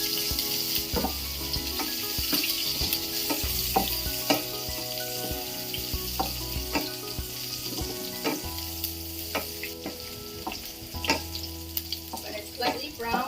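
Sliced onion sizzles loudly in a pan for braised shiitake mushrooms, with a steady hiss broken by repeated clanks and scrapes of stirring, close up and with no voices.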